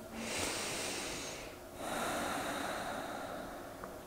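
Slow, steady breathing during a gentle neck stretch, two long airy breaths close and soft with a brief pause between them, no talking.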